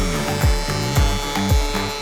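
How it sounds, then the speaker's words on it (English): Wood planer running as rough boards are fed through while building a table, a loud, close mechanical drone with a regular chopping pulse roughly twice per second. "Set the planer to the right height. Turn it on and watch the trees go through."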